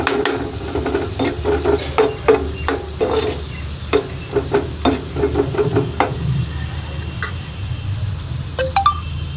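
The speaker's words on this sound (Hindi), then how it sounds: "चम्मच की मदद से हम अल्हम्दुलिल्लाह मीडियम फ्लेम पर भूनते जाएंगे" Mutton keema being stir-fried over a medium flame on a tawa, with a spoon scraping and clinking against the iron again and again in a steady rhythm over a continuous sizzle.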